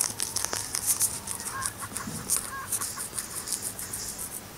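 Chickens clucking in a farming video game on a Samsung tablet, short bird calls and clucks repeating over a light, busy game soundtrack.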